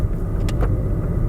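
A used car drives up a small road at an auction lot while its automatic transmission is checked for shifting. A steady, close engine and road rumble carries through, with no talk.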